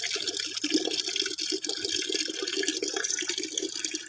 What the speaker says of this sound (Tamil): தண்ணி திருப்பி வச்சு துணி துவச்சிட்டு